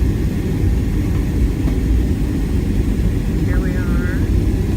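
Inside the cabin of a Southwest Airlines Boeing 737-700 landing in Austin, a loud, steady engine and airflow roar fills the background while a person talks briefly over it.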